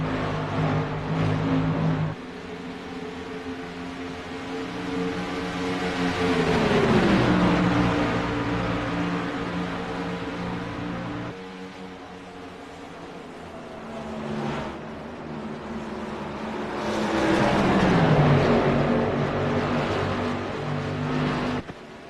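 Gen 6 stock cars in a sim racing game roar past in waves, engine pitch climbing and then sweeping down as each pack passes, with a steady loud drone between the passes and no talk.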